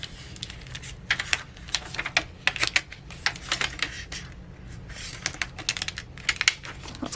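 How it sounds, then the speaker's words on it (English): Vinyl backing being gently peeled off transfer tape during a Cricut craft project, heard as close, crisp crackling and ticking bursts in irregular clusters with short quiet gaps between. "We're going to gently peel up that backing."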